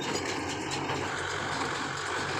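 A heavy tractor engine pulling a straw baler rumbles steadily close by, a dense continuous roar with machinery noise and no pauses.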